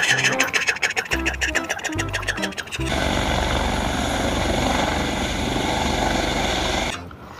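Choppy, pulsing sounds give way to a steady buzzing whir like a small rotor spinning up close, as a toy rescue helicopter flies, which then cuts off abruptly.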